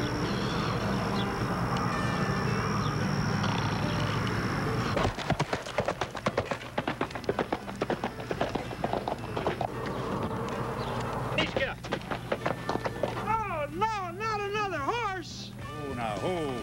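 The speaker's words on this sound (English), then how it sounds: "This is no ordinary horse, Keesh." Horse hooves clip-clop in a steady, rapid rhythm in an Old West comedy sketch, fairly close, following a stretch of music and leading into voices speaking.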